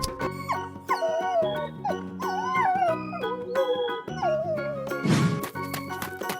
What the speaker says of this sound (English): Dog.